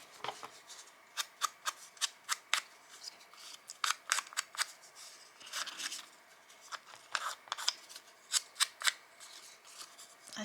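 Scissors snip through paper while cutting out a paper figure, a long run of crisp, close cuts in irregular bursts with short pauses, quiet overall and without talk.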